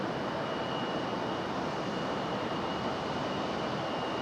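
A distant airliner approaching Raleigh-Durham International Airport gives a steady broad roar with a faint high whine, constant and unbroken throughout, with no speech.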